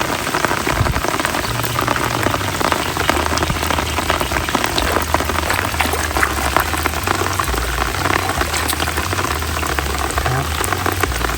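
Heavy rain pours down during a snakehead fishing trip, a loud, dense and constant patter with no break and no voices.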